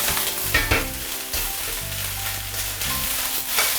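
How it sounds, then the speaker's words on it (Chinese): Carrot and cabbage shreds with scrambled egg stir-fried in a wok with ginger, garlic and chili in oil, a steady loud sizzle broken by repeated scraping and tossing strokes of the spatula, no talking. "胡萝卜丝儿、包菜丝，刚刚我们炒好的鸡蛋一起下锅啊"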